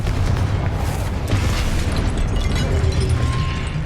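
A Confringo fire spell blasts in Hogwarts Legacy on PS5, a dense, loud booming explosion with sustained rumble and crackle running through the whole stretch.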